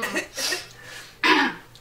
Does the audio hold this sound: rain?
no